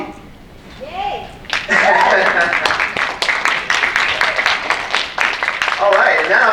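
Audience applause for a speaker just introduced at a talk event: a sudden burst of steady clapping that fills most of the clip, loud and close, with a voice heard over it at the start and end.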